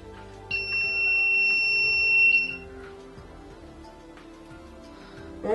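A Babyliss-style automatic hair curler gives a single high electronic beep tone that rings steadily for about two seconds, then cuts off, leaving a quiet background hum.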